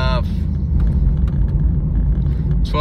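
Low, steady engine hum and road rumble from inside a 1994 Camaro cruising at about 30 mph near 1200 RPM, quiet and even throughout.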